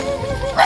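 A dog at a house in the forest gives a short, close yip or bark over a background murmur.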